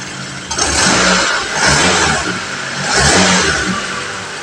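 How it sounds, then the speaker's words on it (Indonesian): Car engine with the alternator clamp removed, still running and revved in three distinct bursts that swell and fall back to idle, loud and close with no talking. "di sini klem sudah saya lepas, mesin masih menyala, masih hidup. Saya gas-gas, mesin juga tidak mati."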